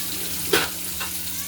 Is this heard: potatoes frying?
yes